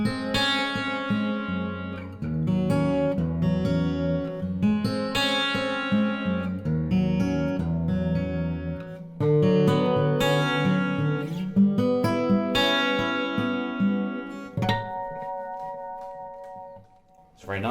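An Enya X3 Pro carbon fibre acoustic guitar strummed through a delay effect, chords ringing with repeating echoes that trail off into a short sustained tail, played close and fairly loud with no talking.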